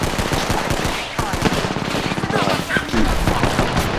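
Sustained automatic gunfire from an Apex Legends arena match rattles on for the whole stretch, rapid close shots stacked into a loud, continuous clatter with brief swells and faint voice traces.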